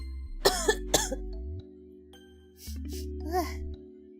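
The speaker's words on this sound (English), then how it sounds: "I'm sorry if I sound a little different because I'm coughing." Several sharp coughs and some throat clearing, up close from a streamer with a sore throat, over a low steady electronic hum.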